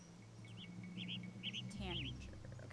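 A tanager call in the Nancy Drew game Ghost Dogs of Moon Lake repeats in several short, high, slurred chirps at moderate distance over a faint background. One lower, buzzier call comes near the end.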